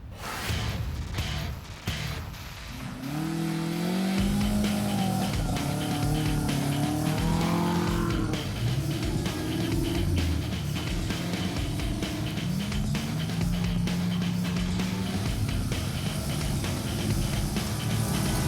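An off-road car climbing rough terrain in the western part of East Java, with a loud, steady engine that revs and strains through gear changes and is heard close up without talk.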